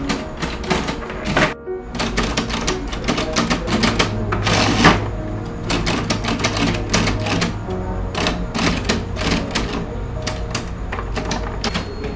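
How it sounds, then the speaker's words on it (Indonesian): A manual typewriter clatters quickly with dense bursts of key strikes, typing a proclamation text in a staged Indonesian independence scene, with brief pauses and a carriage thunk midway, close and loud. "Baiklah, Sayuti, kamu yang ngetik."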